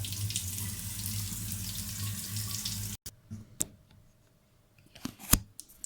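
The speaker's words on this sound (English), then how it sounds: "and I wash up at the same time" Tap water runs steadily into a kitchen sink for about three seconds while dishes are washed up, then cuts off, leaving sparse clinks and clatters of dishes nearby.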